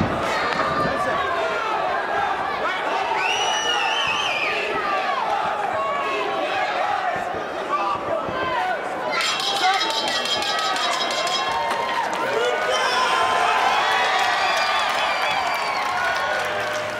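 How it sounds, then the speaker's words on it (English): Dense, steady crowd noise fills an indoor casino arena in Lincoln, Rhode Island during a CES 41 MMA fight, loud and continuous with shouts rising throughout and bursts of cheering in the second half. "Crowd inside the Twin Rivers Casino in Lincoln, Rhode Island."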